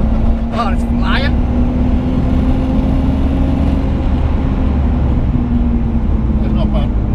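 A turbocharged 400 bhp BMW E46 coupe accelerates hard under boost, a loud steady engine drone with a rising whine heard from inside the cabin, people talking over it.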